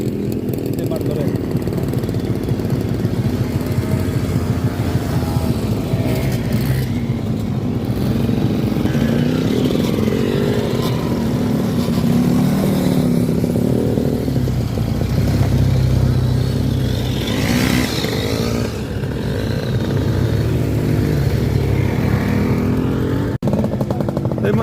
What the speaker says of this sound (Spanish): aquí subiendo por este camino de piedras, toda la vez de motos clásicas del Club ANCAM de Martorell